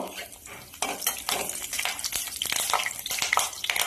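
Mustard seeds and curry leaves frying in hot oil in a pan while cooking a capsicum palya: crackling, popping sizzle mixed with metallic clinks of a spoon against the pan, close up and fairly busy.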